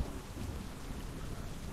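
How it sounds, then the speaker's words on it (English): Steady rainfall with low rumbling thunder rolls through the whole stretch as a weather effect in the strategy game Hex of Steel, a dense, continuous wash with no voices. "No, it's raining. Weather effects are great."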